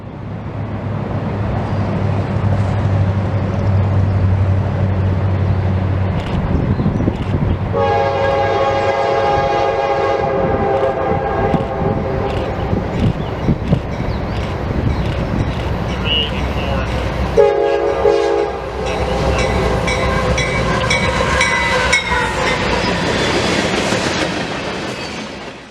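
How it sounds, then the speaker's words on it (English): A CSX manifest freight led by a single AC44 locomotive rolls past on the Mohawk Subdivision, its loud multi-tone horn blaring in two long blasts over steady rumble and wheel clatter, staying close and loud throughout. "Our next train was CSX Manifest Q384. This train had a nice solo YN2 AC44 on the point."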